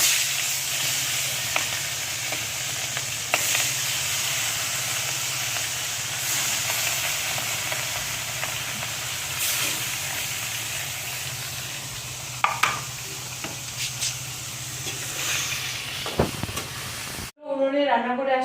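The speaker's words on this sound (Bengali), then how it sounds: "তো এই কাতল মাছ ফ্রাই, তেল গরম হয়ে গেছে" Catla fish pieces fry in hot oil with a loud, continuous close sizzle and crackle, steady throughout with occasional sharper pops and stirring clatter near the end.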